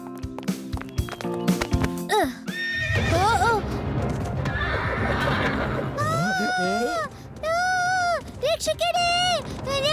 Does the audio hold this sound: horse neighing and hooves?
yes